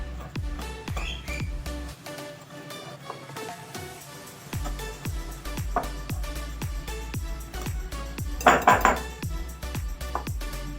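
Maida, besan and cardamom powder are mixed in a bowl with a spoon, giving rapid repeated scraping and clinking strokes in a steady rhythm, close and fairly quiet, with a brief louder burst near the end.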